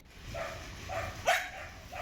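A dog barks in the area where the household's dogs are kept, giving four short, moderately loud yipping barks spaced out over a couple of seconds against a quiet background.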